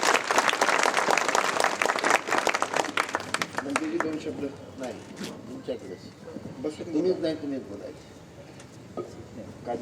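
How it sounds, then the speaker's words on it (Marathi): An audience at a police-organised anti-addiction gathering claps loudly for the police superintendent, a dense burst of applause that thins out and gives way to someone speaking over a public address system. "जोरात टाळ्या व्हायला पाहिजे साहेबांचा"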